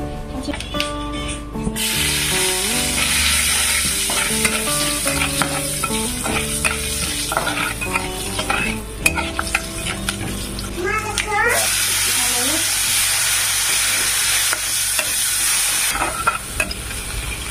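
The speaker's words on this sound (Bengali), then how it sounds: "ওই তেলের মধ্যে দিয়ে দিল পাঁচফোড়ন" Five-spice seeds hit hot oil where fish has just been fried, setting off a loud, continuous spattering sizzle that runs the whole time, with a voice faintly present early on.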